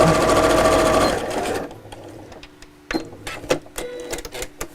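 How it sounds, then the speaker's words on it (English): A sewing machine stitches fabric corners together with a quarter-inch seam, a loud fast whirring run that stops, followed by several short stop-start bursts of stitching and clicks. "So just sew those corners together to make it square."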